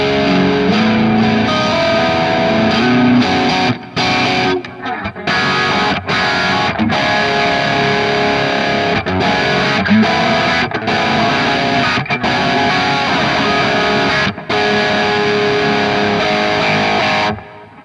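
Electric guitar played through a Kemper amp profile with a chorus effect, loud and thick with a wide, modern tone; chords ring out and stop abruptly several times, with brief gaps between phrases and no talking.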